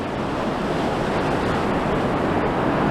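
Cold winter sea surging at high tide along Blackpool promenade, a loud, constant roar of surf mixed with wind rumble on the microphone, with no voices.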